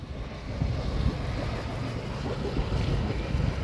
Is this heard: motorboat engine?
yes